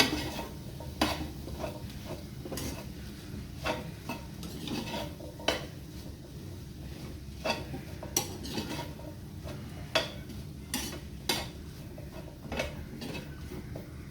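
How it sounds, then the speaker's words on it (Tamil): Spoon working boiled chickpeas around a pan for a chickpea-and-egg dish: a steady low rumble of mixing broken by sharp metallic taps and scrapes every second or so, close and moderate in level, with no voices. "இதோட நாங்கள் பாயில் பண்ணி வச்ச சிக்பியாவை ஆட் பண்ணி இதை நல்லா மிக்ஸ் பண்ணுறோம்"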